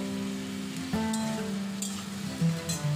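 Potatoes fry in a pan for a cauliflower, potato and poppy-seed dish, giving a continuous light sizzle with soft crackles and a few brief stirring knocks under a faint steady tone.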